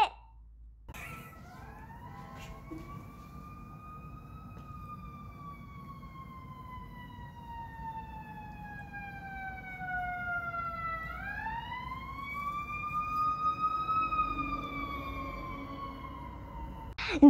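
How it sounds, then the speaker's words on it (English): A fire truck siren wails alone, rising and falling in long sweeping tones that swell gradually louder as it nears over about seventeen seconds. "the fire truck was making the sound"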